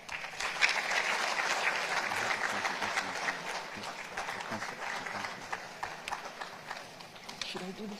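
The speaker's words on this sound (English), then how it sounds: "We can clap for them." Audience applause at the Uganda–Somalia investment and business summit as agency heads exchange signed documents; steady clapping throughout, with voices and brief speech mixed in near the end.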